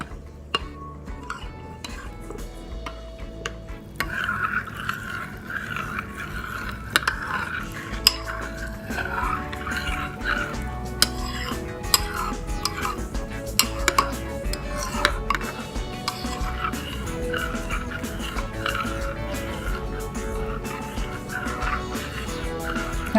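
A spoon stirs almond milk and chia seeds in a bowl, a steady run of small scraping clinks and swishes with sharp taps against the rim, close and continuous.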